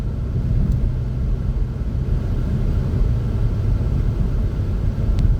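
Low road rumble from inside a moving car, a steady droning hum with faint tire and wind noise, constant throughout with no voices.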